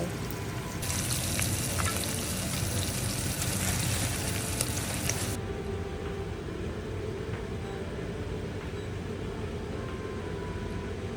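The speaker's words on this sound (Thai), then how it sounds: "เดี๋ยวเราจะผัดเบคอนจนน้ำมันออกมาแล้วก็กรอบหน่อยนะคะ" Steady broadband sizzling and crackling of large bacon pieces frying in a pan until crisp, continuous throughout, with a brighter hissing burst early that drops to a softer fry.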